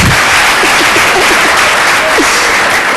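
Audience applause at an event, a loud, steady wash of many hands clapping that continues evenly with a few faint voices underneath.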